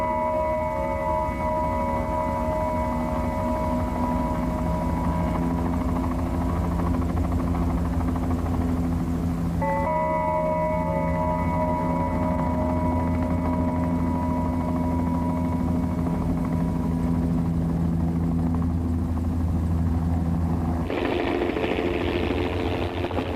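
A helicopter flies to the ruins of Loulan by a salt marsh, its engine and rotor hum steady and loud throughout, with a pitch shift near the end.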